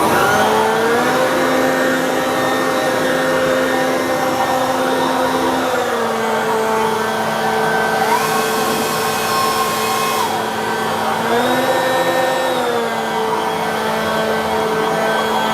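Cordless leaf blowers, a Hyundai and a Makita DUB362Z, run with a loud steady motor whine that steps up and down in pitch several times as the trigger is worked, with no voices.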